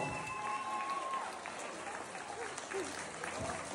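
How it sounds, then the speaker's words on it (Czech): Clapping from an audience at a town sports awards ceremony continues steadily at a moderate distance, with faint voices and a brief whistle-like tone mixed in. "Takže poprosím o velikánský potlesk pro vítězku sportovec roku města Bíliny Adéla Kuklíková."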